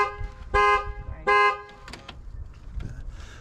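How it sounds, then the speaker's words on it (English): An alarm on a moored boat at a marina sounds in two loud, harsh horn-like blasts, each about half a second, followed by scattered knocks and rustling. "was hoping maybe somebody wouldn't set their burglar alarm off, but Kathy has decided to"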